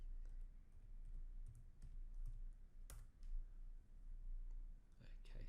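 Keys clatter on a computer keyboard as a command is typed, a quiet run of scattered clicks sitting over low background hum with a few sharper taps.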